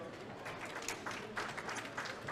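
Faint applause at a distinguished panel session, as thanks to the speakers, with scattered clapping spread evenly through the moment at a low level.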